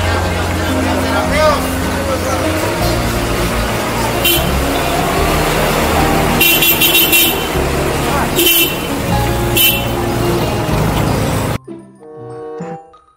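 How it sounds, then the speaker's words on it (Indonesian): An Arimbi bus passes along a road with a horn toot over busy traffic noise and engine rumble, close and loud, with a few sharp bursts before it fades into a quieter tail. "Yang ini ada bus Arimbi teman-teman."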